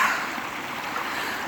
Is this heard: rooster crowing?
no